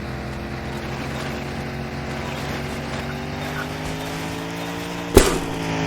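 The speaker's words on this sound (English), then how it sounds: "What if I just don't stop and just keep flooring it?" A car engine is floored at full throttle in The Long Drive video game, a steady droning roar with slowly rising pitch and one brief sharp knock near the end.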